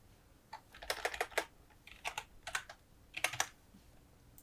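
Typing on a computer keyboard to enter a Discord nickname: three quick bursts of close, crisp key clicks with short gaps between them, no talk.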